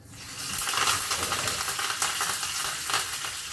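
Curry leaves and black mustard seeds sizzle and crackle in hot oil for uttapam tempering, a steady close frying hiss with scattered pops and no talk.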